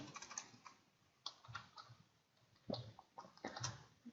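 Soft, irregular clicks and taps from someone typing an SQL query on a computer keyboard, close but faint, in uneven bursts with brief pauses and no voice.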